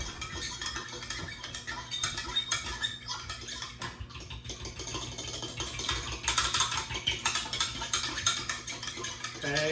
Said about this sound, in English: Okay, nice and stirred around.